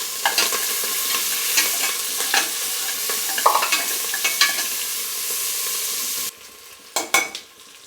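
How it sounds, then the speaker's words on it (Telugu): Onions and green chillies fry with whole spices such as cinnamon and cloves in a pot for Hyderabadi bagara rice, giving a loud, steady sizzle broken by stirring scrapes before it quiets down near the end. "దీంట్లో ఆనియన్స్ పచ్చిమిర్చి కూడా వేస్తున్నా."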